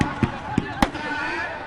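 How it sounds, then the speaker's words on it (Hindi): Fireworks at a Ravan Vadh celebration in Siwan: three sharp bangs at short uneven intervals over a constant noisy crowd background. "जबरदस्त आतिशबाजी"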